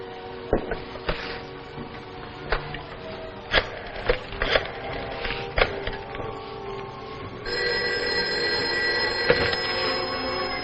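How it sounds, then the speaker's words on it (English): A telephone rings in a 1950s science fiction television drama; a run of sharp clattering clicks gives way to a sustained, bright, continuous ring. "I'm going to call you on this other phone"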